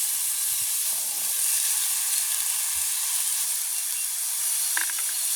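Eggplant and boiled chickpeas hiss and sizzle steadily in a hot pan, a continuous frying crackle with a few faint clinks, no voices.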